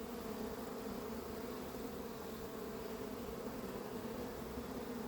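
Honeybees buzzing at a calm, busy hive, a dense steady drone close by and even in level throughout, with no voices.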